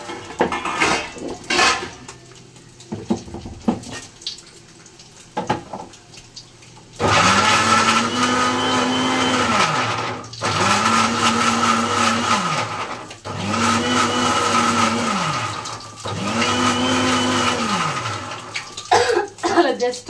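A kitchen mixer grinder pulses onions for a masala in short bursts, about four loud whirring runs of a couple of seconds each with brief gaps, after clattering dishes and some talk.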